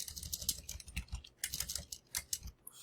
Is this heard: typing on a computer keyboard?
yes